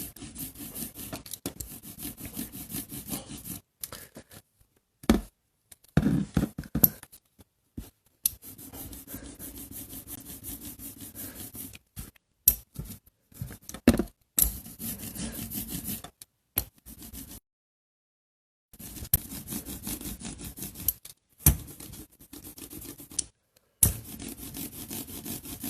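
Ink being rubbed over a carved linocut block during a printmaking demonstration, heard as steady scratchy rubbing strokes in bursts separated by short silent pauses.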